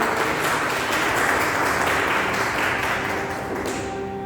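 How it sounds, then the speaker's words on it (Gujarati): Audience applause at a magazine awards ceremony as a guest is welcomed onto the stage, a dense, steady wash of clapping throughout that eases slightly toward the end. "સ્ટેજ ઉપર ફરીવાર તાળીઓના ગડગડાટ સાથે તેમનું સ્વાગત કરું છું"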